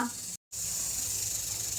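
A steady, close hiss of a pressure cooker venting steam while cooking peanuts, briefly cut off by a split-second gap before resuming.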